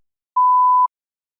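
A single clean electronic beep from a TOEFL practice test, a steady mid-pitched tone lasting about half a second in otherwise total silence.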